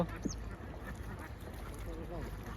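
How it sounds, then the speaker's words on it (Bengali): Ducks quack at a distance on a waterside in Pabna, Bangladesh, a few faint calls over a steady background hum while people talk nearby. "কয়শো হাঁস আছে কাকা"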